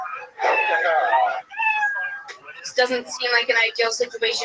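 A cat meow sound effect plays over a stream broadcast, arriving after a stretch of talk as a run of bright, wavering, fairly loud mews that overlap with voices.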